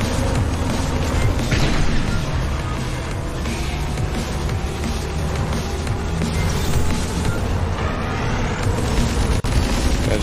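Weapons firing and explosions in the combat racing game GRIP, a dense continuous barrage of booms and crashes with engine roar underneath, loud and unbroken throughout.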